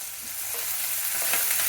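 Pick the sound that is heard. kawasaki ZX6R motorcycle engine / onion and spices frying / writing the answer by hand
onion and spices frying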